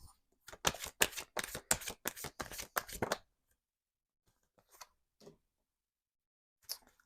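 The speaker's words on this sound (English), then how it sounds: "And I'm just going to pull two more cards here." Tarot cards shuffled and pulled from a deck during a love reading: a rapid burst of crisp riffling flicks up close for about three seconds, then a few soft isolated card slides and taps.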